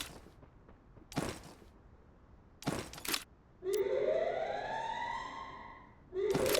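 A rising siren wail from the Free Fire video game sweeps upward and holds, then restarts near the end, following a few short sharp game effect bursts over a quiet background.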